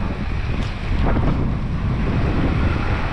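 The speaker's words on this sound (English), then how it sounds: "Dang, it's windy." Strong wind gusting on Bocage Street in Macau, a loud steady roar buffeting the microphone throughout, with faint street sounds beneath.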